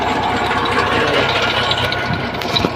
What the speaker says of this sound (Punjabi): ਉਹ ਚੱਲ ਰਿਹਾ ਹੈਗਾ ਹੁਣ ਤੇ ਪੱਖਾ ਹੈਗਾ ਜਿਹੜਾ ਤੁਸੀਂ ਇੱਧਰ ਆਪਣਾ ਦੇਖ ਸਕਦੇ ਹੋ